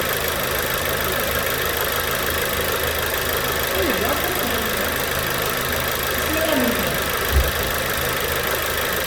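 A turbocharged direct-injection car engine idles with a steady mechanical hum and vibration. It is lightly revved now and then, rising briefly before settling back, heard up close.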